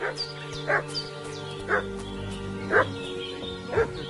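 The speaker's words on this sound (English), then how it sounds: "What's that dog making such a fuss about?" Dog in the video game Kingdom Come Deliverance 2 barks in four short, sharp, evenly spaced woofs over a low steady background hum.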